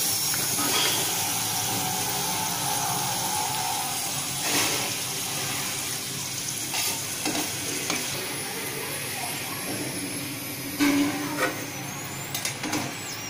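Potato wedges deep-frying in hot oil, a steady dense sizzle and bubbling hiss running throughout, with occasional stirring clatter and brief louder bursts.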